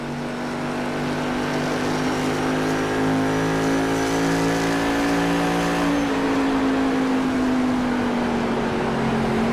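An onboard recording of a race car in an IROC race at Iowa Speedway captures a loud, steady engine drone. The pitch climbs slowly, drops briefly as the car shifts, then holds high under sustained throttle, with no talk.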